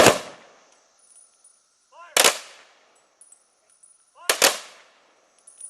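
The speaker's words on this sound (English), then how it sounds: "So the rifle salute will happen" A Memorial Day honor guard fires a rifle salute: three sharp, loud volleys spaced about two seconds apart, each one a crack followed by a ringing outdoor echo.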